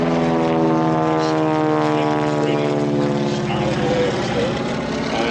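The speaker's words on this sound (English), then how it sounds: "those four great Pratt & Whitney engines roar that airplane up into the sky." A large airplane with four Pratt & Whitney piston engines roars loudly and steadily at an airshow, its pitch sliding as it passes, while an announcer speaks over it.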